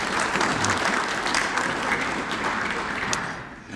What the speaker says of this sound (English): Please give yourself a round of applause for your participation.